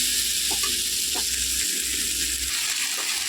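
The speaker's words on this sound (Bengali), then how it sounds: "সবটা মশলা আলু টালু সব দিয়ে একদম ভালো করে কষিয়ে নিলাম" Spices and potatoes frying hard in a pan for egg curry: a continuous, close, loud sizzle with a few faint stirring scrapes and no talking.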